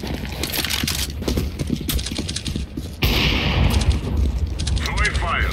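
Sniper rifle shots and other gunfire in Counter-Strike: Global Offensive, sharp repeated cracks layered over a busy, loud game mix with a heavier burst of firing in the second half.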